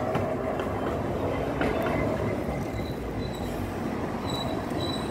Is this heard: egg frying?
no